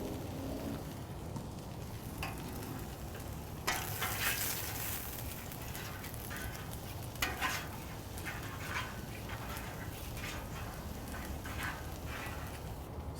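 Canola oil sizzles softly in a pan as ribeye steak goes in, a faint continuous frying hiss with a couple of brief louder bursts and light clatter, no voices.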